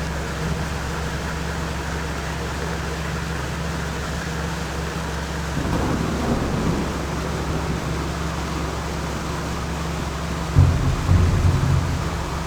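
Rain hisses steadily in a Plane Mechanic Simulator video game, with a low hum beneath it, a rumble of thunder near the middle and a sharper low crack near the end.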